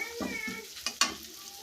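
Spices frying with ginger paste in a pan, a low close sizzle broken by a couple of sharp scraping stirs.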